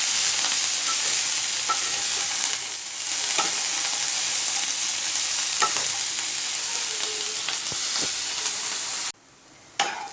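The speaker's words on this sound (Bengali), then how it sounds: "তো সব জিনিসগুলোকে আমি এখন ভালো করে একসঙ্গে ফ্রাই করে নেব।" Mixed vegetables for paneer fried rice fry together in a pan, a steady hissing sizzle with scattered scrapes and clinks of stirring, cut off abruptly near the end.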